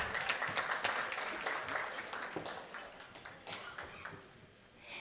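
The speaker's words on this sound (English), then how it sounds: "And they deserve another round of applause" A hall audience at a state convention gives a round of applause for students, a steady wash of many hands clapping at moderate distance with no talk over it.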